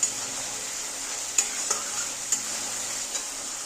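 Spice paste for an egg and potato bora curry is stirred and fried in a pan, giving a steady soft sizzle with a few sharp scrapes and clicks of the spoon, close and quiet with no talking.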